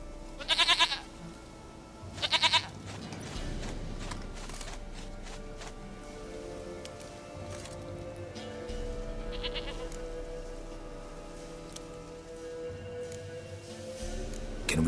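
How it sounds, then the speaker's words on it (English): A goat in The Witcher 3 gives two loud, close bleats near the start, then a fainter bleat later, over a steady low game ambience with no talking. "Goat of mine, dearest, sweetest goat."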